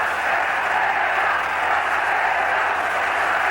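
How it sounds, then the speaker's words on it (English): A boxing arena crowd, largely island natives, chanting for their champion at a bout; a steady, dense wall of crowd noise holds unchanged throughout. "This crowd, largely natives of the island, chanting for their champion."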